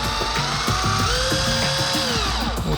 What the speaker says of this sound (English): drill into the cylinder